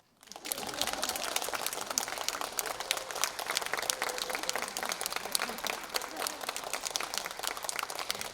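Audience applause at a live reading of Kim Yu-jeong's Manmubang: a dense, steady wash of many hands clapping that swells in after a brief quiet start and holds at an even level to the end.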